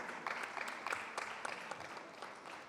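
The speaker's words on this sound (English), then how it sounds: "Can we have a round of applause?" Audience applause at an SME IPO business session in Bengal, a steady round of clapping from a hall crowd with sharp individual claps standing out, fairly close and alone without talk.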